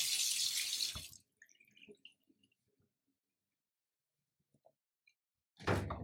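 Water runs hard from a kitchen tap into a double stainless steel sink, a loud steady rush for about a second before cutting off, followed by faint drips and small clinks, then the flow bursts on again near the end.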